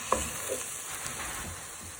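Prawns, chorizo and onions stirred in a pan: a soft, steady sizzle with a few light clinks and scrapes of the utensil, close but fairly quiet, no voices.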